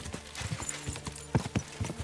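Horse hooves clop in the video game Kingdom Come: Deliverance II, an irregular run of dull thuds at walking pace over a faint background bed, near and moderately loud.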